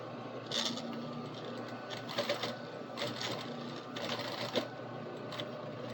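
A sewing machine topstitching along a seam edge, running in short bursts of rapid mechanical whirring and needle clatter, close by, separated by brief pauses as the fabric is adjusted.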